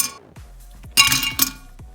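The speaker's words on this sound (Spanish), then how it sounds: "Y ahora vamos a poner mucho hielo." Ice cubes dropping and clinking into a glass jug of green tea, a few sparse knocks followed by a loud bright rattle of several cubes tumbling together, then a last clink.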